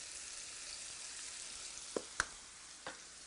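Chicken pieces seasoned with salt, pepper and thyme fry in a skillet with a quiet, steady sizzle, broken by a few brief knocks or clicks near the end.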